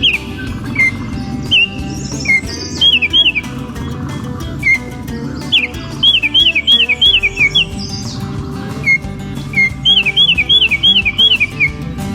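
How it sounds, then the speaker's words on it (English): A Baltimore Oriole sings a series of clear, flute-like whistled phrases in repeated bursts, fairly near, over a steady background hum. "this one has a nice flute-like sound, but it's much more firm or pronounced, that flute-like sound in the Baltimore Oriole"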